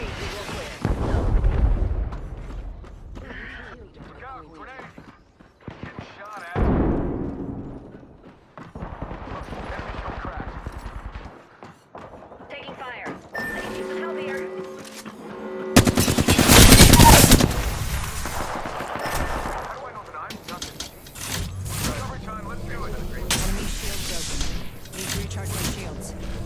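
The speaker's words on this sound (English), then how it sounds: "Taking fire" Gunfire in the video game Apex Legends comes in heavy bursts and rapid volleys with booming impacts, loud and close, while voices speak briefly between the shots.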